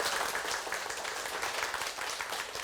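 Audience at a seminar on buying a new apartment claps together in a steady, dense burst of applause lasting the whole moment, with no talking over it.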